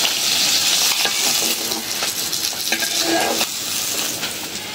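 Fresh fish fries in hot oil in a wok, loud close crackling and spitting, with metal utensil clinks and stirring scrapes over the sizzle.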